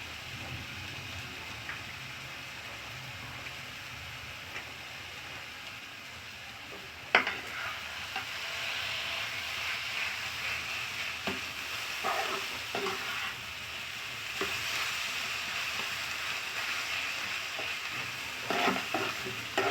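Raisins frying in oil in a pan for potol kofta, a steady close sizzle with intermittent spatula scrapes and stirring knocks throughout, no speech.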